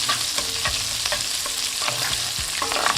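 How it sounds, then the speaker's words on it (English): A steak sears in a hot pan, giving a steady loud sizzle with a few scraping, stirring clicks as it is turned to one side, close and with no talk. "Let it completely sear."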